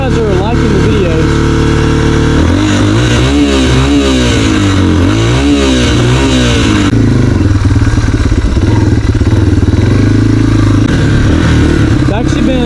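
Dirt bike engine idles while warming up, a loud, close chugging rumble with wavering revs throughout, and a voice talking over it.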